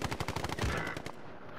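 Rapid automatic gunfire from Call of Duty Warzone crackles in a fast, even burst of shots lasting about a second, moderately loud, then fades into quiet background.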